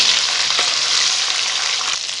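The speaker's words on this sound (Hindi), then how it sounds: "इसे हम हल्का सा सौते कर लेंगे" Ginger garlic paste sizzles in hot oil in a wok, a loud, steady, close frying hiss with a faint stirring scrape partway through.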